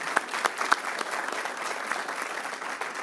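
Applause at a city council meeting, a soft, fairly distant patter of clapping from a modest crowd, steady for a few seconds with a few sharper claps early on.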